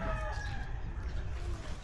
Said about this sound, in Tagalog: May mga manok diri tangkal.